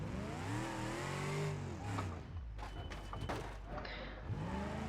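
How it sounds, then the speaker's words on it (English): Hot Lap Special race car engine in BeamNG.drive revving up through rising gear sweeps, shifting and climbing again, with a burst of tire noise and thumps midway; loud and close, no talking. "let's take this car for a test drive"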